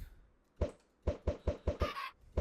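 Chickens in Minecraft cluck in a short series of about seven sharp, evenly spaced clucks, fairly close and clear, with no talk over them.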